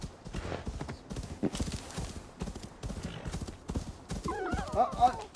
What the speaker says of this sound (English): Let the horse speed up.